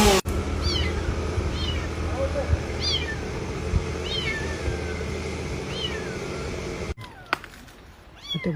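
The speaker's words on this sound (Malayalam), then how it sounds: "അവിടെ പൂച്ചക്കുഞ്ഞ് അലയ്ക്കുന്നു" A small kitten meows repeatedly outdoors, about one short rising cry per second, close and fairly clear over a low background hum, followed by some handling noise near the end.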